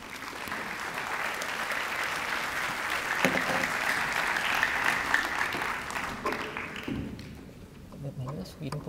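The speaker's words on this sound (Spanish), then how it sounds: "Lo recibimos con un fuerte aplauso" A roomful of people at a scientific conference talk applauds a speaker as he is welcomed, a steady, moderately loud spread of clapping that thins out toward the end, with some voices faintly underneath.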